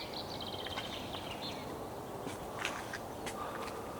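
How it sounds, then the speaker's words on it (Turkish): In the forest of Çamlık National Park in Yozgat, a few faint bird chirps and short calls rise over a soft, continuous wash of wind, with no talking. "kuş sesleri ve rüzgarın sesi geliyor mu?"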